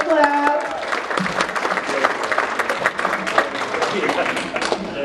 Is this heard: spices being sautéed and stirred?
no